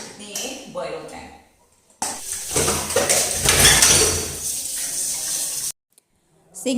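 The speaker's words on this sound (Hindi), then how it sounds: "मैंने सोचा चलो साथ के साथ चाय के बर्तन भी कर देती हूँ" Tea dishes and pots washed in a kitchen sink, with clattering utensils, clinks and running water in bursts, a short quiet gap, then more clanks, while someone talks over it.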